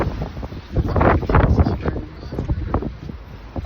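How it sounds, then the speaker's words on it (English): Gusty wind on a sunny, warm day buffets the microphone outdoors in rough, rumbling surges that rise and fall. "Y'all hear that wind gusting?"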